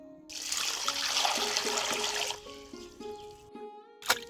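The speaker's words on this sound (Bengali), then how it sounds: "এবার আমি এই তিতকরলা পাতাগুলোকে দুবার করে জল দিয়ে ধুয়ে নিচ্ছি" Bitter gourd leaves are washed by hand in a bowl of water, with steady close splashing and trickling for about two seconds, then quieter dribbles and a final sharp splash.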